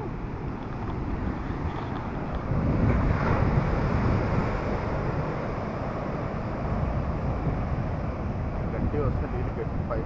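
Sea waves surge and crash at Varkala beach in a broad, loud roar with buffeting wind on the microphone, swelling midway, while people talk over it.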